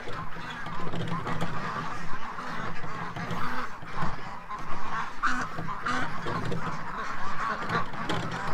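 Ducks quack and honk loudly and repeatedly at feeding time, a busy, overlapping chorus of close calls that keeps going without a break.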